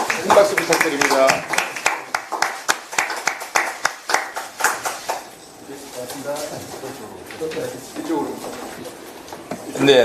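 Audience clapping at a Korean political party's welcome ceremony for newly recruited talent, a dense burst of handclaps that thins out and fades, followed by lower background murmur and a brief swell of clapping at the end.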